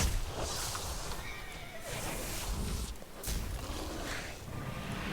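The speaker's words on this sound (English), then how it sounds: "Oh, even the horses are going to fight." Horses neigh and whinny in World of Warcraft's Drustvar zone, several shrill calls over a rough background of hooves and thuds, faint and somewhat distant.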